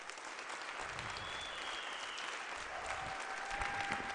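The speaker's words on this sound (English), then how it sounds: "give all these signees another round of applause" A gathering at a high school football National Signing Day applauds the signees, a steady, even roar of many hands clapping heard from some distance, with a faint tone running through it.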